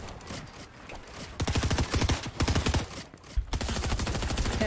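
Rapid bursts of gunfire crack out in the video game Fortnite, played in Arena mode, with loud volleys of repeated shots broken by short pauses, the shooting coming from behind the player.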